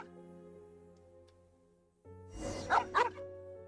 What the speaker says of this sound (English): Why is he barking at the old cemetery?